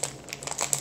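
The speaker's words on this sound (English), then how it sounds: "We'll open it up without a scissors." A package torn open by hand without scissors gives brief, close crinkling and crumpling of plastic or paper in a few quick bursts lasting under a second.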